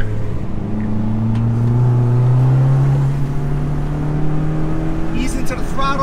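A Fiat car's engine hums and gradually climbs in pitch as it accelerates through a tight right corner on a winding road, steady and close throughout, with a brief faint rattle near the end.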